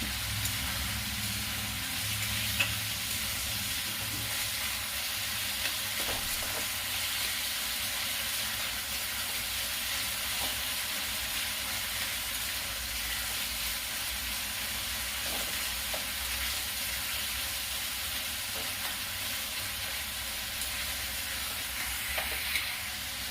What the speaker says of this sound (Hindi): इसे हाई फ्लेम पर भूनूंगी।